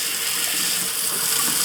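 Water pours and splashes steadily onto a rechargeable LED work light during an outdoor waterproof test, a dense continuous hiss that stays loud and close for the whole stretch with no talk.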